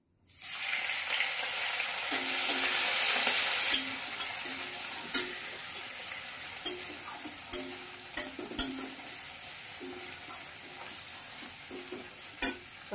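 Panch phoron spices, green chilli and ginger paste hit hot oil with a loud, steady sizzle, then settle into quieter frying broken by sharp pops and scraping stirs, close up, with no talk.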